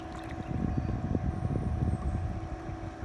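A boat approaches across open water, a steady low engine rumble with some wind buffeting the microphone, continuous and moderately loud with no talking.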